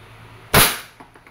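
A Crosman SR 357 airgun revolver fired single action, one sharp, loud, close crack that decays quickly, followed by a few faint clicks.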